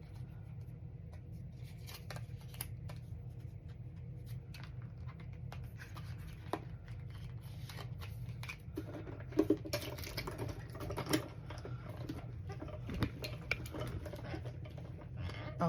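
Scissors snip through paper to cut out a small sentiment for a card, with a steady run of soft, irregular cuts and rustles close by over a low background hum.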